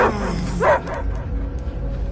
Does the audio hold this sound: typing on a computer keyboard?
no